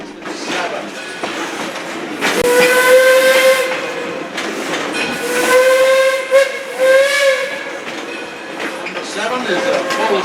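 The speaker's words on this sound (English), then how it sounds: "Is a full-size Baldwin steam locomotive built in 1897 in Philadelphia, Pennsylvania." A full-size Baldwin steam locomotive, No. 7, built in 1897 in Philadelphia, sounds loud, sustained whistle blasts, two long ones with a shorter burst between, over a steady hiss of escaping steam.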